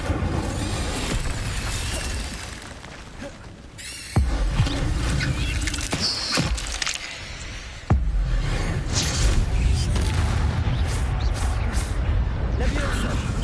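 Spell effects from the Hogwarts Legacy video game build as dense, crackling whooshes, with loud bursts hitting sharply twice in succession over a continuous busy backdrop.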